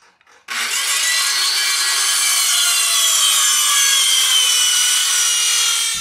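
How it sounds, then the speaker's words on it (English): A wood block is cut to fit between roof rafters as blocking for solar panel mounting. A loud, close, continuous sawing rasp starts abruptly and runs steadily for over five seconds, with no talking. "cut a wood block to fit that dimension"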